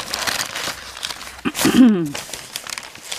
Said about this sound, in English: I'll just go ahead and tear this off and unwrap it that way